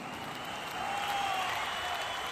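A crowd in historical Edinburgh welcomes Mary, Queen of Scots, with steady, dense applause and faint cheering at a distance, swelling slightly after the first second and holding.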